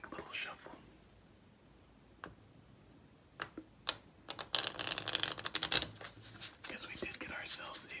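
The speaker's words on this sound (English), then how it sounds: "So let's give this a nice quick little shuffle." Playing cards shuffled for a game of solitaire, quick crisp flicks and riffling clicks bunched into a rapid close burst after a few scattered taps, with soft whispering talk around them.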